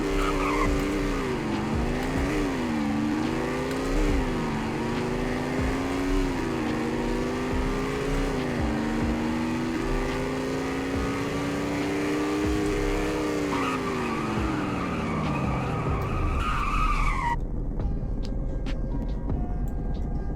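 A car in the Roblox game Greenville brakes hard, its tires squealing in a long, loud skid over a steady engine drone, with the pitch sliding down before the sound cuts off abruptly near the end.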